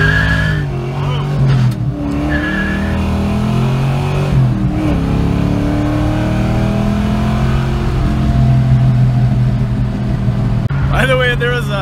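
A Ford Mustang fitted with GT40 heads accelerating on a road in a first-gear roll, its engine note droning and rising in pitch inside the cabin, with a shift near the end and the driver talking over it.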